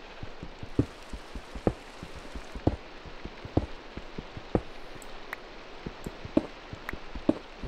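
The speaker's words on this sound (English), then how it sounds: "I'm gonna turn on the rain." Steady rain patters in Minecraft, a soft continuous hiss broken by regular sharp ticks and thuds recurring about once a second, with no talking.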